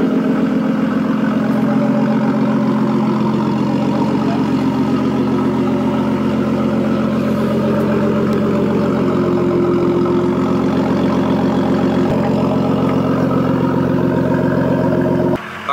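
A Nissan R32 Skyline idles nearby with a steady, slightly lumpy low engine rumble that stays even and loud throughout, with no talking.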